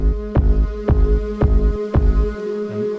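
A steady electronic beat with a deep sidechained kick drum thumping about twice a second, the sustained pad ducking and swelling around each hit; no voices.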